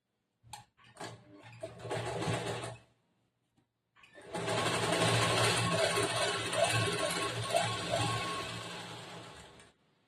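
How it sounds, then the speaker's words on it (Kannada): A sewing machine stitching a seam on blouse fabric during a tailoring lesson, with a short burst of running, a pause, then a longer steady whirring run with rhythmic needle clatter. "ಈ ಕಡೆ ಟರ್ನ್ ಮಾಡಿ ಇದ್ರ ಮೇಲೆ ಇನ್ನೊಂದು ಹೊಲಿಗೆ ಹಾಕ್ಬೇಕು."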